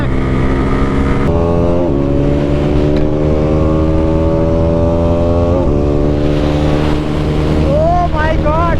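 Motorcycles in a drag race scream through steadily climbing revs with quick gear shifts, the engine whine loud and close, with a faint voice near the end.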